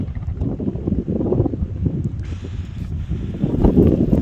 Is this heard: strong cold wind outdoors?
yes